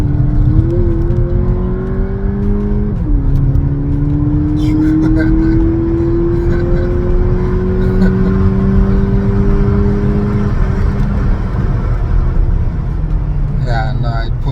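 A 2023 VW Polo GTI with its 2-liter engine pulls hard through the gears, the loud rising engine note climbing steadily with a brief dip at a shift, heard from inside the car under continuous road roar.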